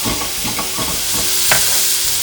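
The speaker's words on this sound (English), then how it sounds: "And I want them to sizzle." Tomatoes sizzle and fry in hot olive oil in a pan, with a steady hiss and a few stirring scrapes and spatters, close and fairly loud, no voices.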